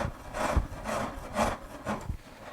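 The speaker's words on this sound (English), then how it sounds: "having this really coarse monster of a rasp" A really coarse wood rasp shaping wood, with about five loud rough strokes in a steady back-and-forth rhythm, close up and with no voices.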